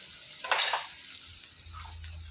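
Onions and green chillies fry in a pan for a Telugu ivy gourd curry, a steady close sizzle with a brief louder stirring scrape near the start and no talking.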